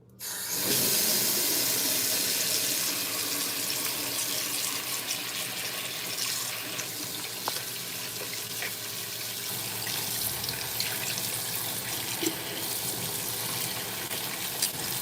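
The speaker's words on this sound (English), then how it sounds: "Wash my hands." Hands being washed under a running tap at a sink, a steady close hiss of flowing water with splashing that carries on evenly throughout, with no talking.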